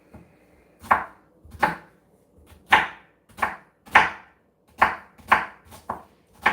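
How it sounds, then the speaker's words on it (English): A knife chops onions on a board, eight or nine sharp, close, loud cuts at an uneven pace with quiet pauses between them and no talk. "The key thing about chopping up onions, remember this."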